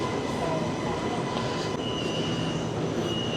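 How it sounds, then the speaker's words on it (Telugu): An MRT metro train in Malaysia runs close by with a constant loud rumble, thin wheel squeals drifting above it and no voices. "ఇప్పుడు ఎంఆర్టీ చూపిస్తాను మీకు."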